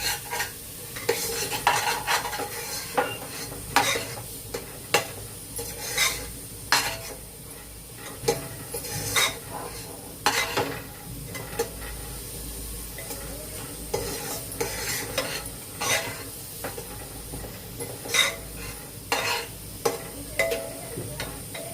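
Masala sautéing in oil in a pan with a splash of water, a spoon scraping and stirring in steady repeated strokes over a continuous close sizzle, no talking.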